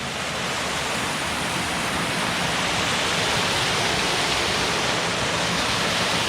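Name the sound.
waterfall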